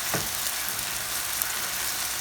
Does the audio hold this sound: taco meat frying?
yes